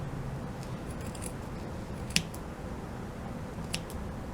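Scissors snip through loose yarn ends on a handmade yarn flower, giving one short crisp cut near the middle and a fainter snip later, over quiet room noise.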